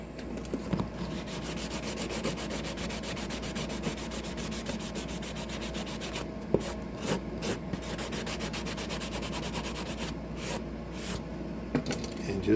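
Steady hand sanding on a model Knight Rider Goliath truck cab, a continuous close scratchy rubbing that keeps going with small bumps and brief pauses near the end.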